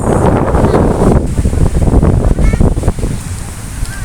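Wind roars across the microphone over a steady wash of surf breaking nearby at Bang Saen beach, Thailand, loud and constant throughout with no voices.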